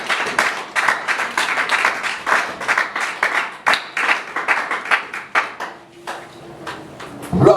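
Church congregation clapping together during a service, a rhythmic run of hand claps that continues steadily throughout, close and lively.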